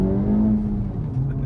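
A 2024 Acura Integra Type S pulls away, its engine giving a low, rising drone that stays close and steady through a brief moment, with no talking.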